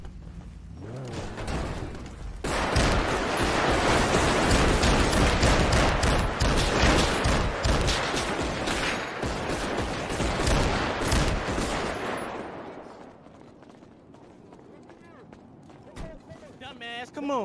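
Rapid bursts of gunfire rattle loudly during a drive-by in the video game GTA, a dense fusillade that fades out toward the end, with people talking over it.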